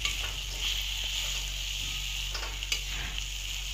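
Green chillies sizzle in hot oil in a frying pan over a low flame, a steady close hiss with a few faint scrapes and clicks, no voices.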